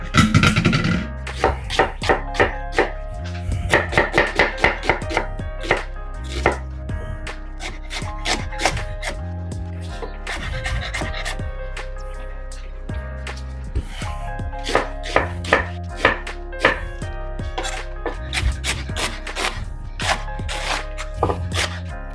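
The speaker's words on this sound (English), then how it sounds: "Just give it a rough chop." Collard greens being rough chopped with a knife on a cutting board, a long run of sharp, irregular thuds and taps up close with short pauses between bursts.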